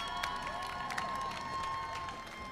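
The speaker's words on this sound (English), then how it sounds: "We got some noisy crowd." Noisy crowd at a robotics league tournament, a steady broad wash of cheering and scattered applause with a few sharper shouts, moderately distant and continuous throughout, with faint announcer-style voice and tonal arena sound underneath.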